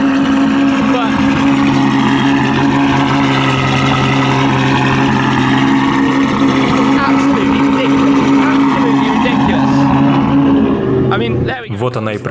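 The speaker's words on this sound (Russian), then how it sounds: "Это холодный пуск двигателя V12. Невероятно громко." A Ferrari 812 with a Novitec N-Largo conversion and its V12 engine running after a cold start, a loud, steady, deep exhaust drone close by, with a person speaking over it near the end.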